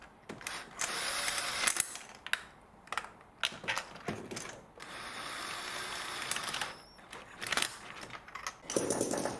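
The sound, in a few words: power tool driving in BMW spark plugs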